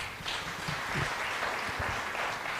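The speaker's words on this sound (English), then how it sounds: "Another round of applause." Applause from the audience at a climate and security conference in Berlin, a steady, even hall-wide clapping heard from a distance, moderate in level and unbroken throughout.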